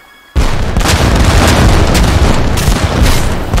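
Ship cannons fire in a naval battle in Age of Empires III, an abrupt loud boom after a brief quiet, followed by a sustained roar of overlapping blasts with several sharp peaks.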